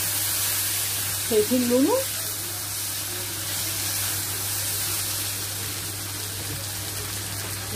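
Rice and vermicelli sizzling in a pot as they are stirred, a low continuous frying hiss running throughout, with a voice speaking briefly near the start.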